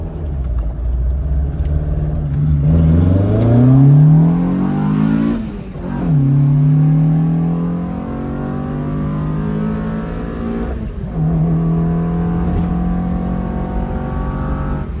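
A tuned Citroën AX Sport engine revs and accelerates through several gears, pitch climbing then dropping at each shift, loud and close with a raspy, tuned exhaust note.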